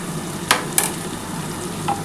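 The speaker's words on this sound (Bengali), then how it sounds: "এবার এইটার মধ্যে একটুখানি ভালো করে নাড়াচাড়া করতে হবে।" Onions fry with a pinch of sugar in a pan for chicken curry, a soft steady sizzle with two or three brief scrapes of a spoon stirring, close and fairly quiet.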